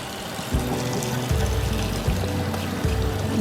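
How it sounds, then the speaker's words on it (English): Soaked sticky rice and water are poured into a strainer, producing a continuous rushing pour with a few splashing surges, close and fairly loud. "So we're just going to pour this into a strainer."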